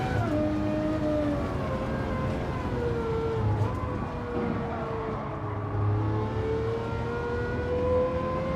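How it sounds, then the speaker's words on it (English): Lamborghini Murcielago LP640 V10 engine in a racing video game, a steady high-pitched whine with gliding pitch as revs rise and fall, loud and continuous throughout with no talk. "Murcielago LP640. That's a V10."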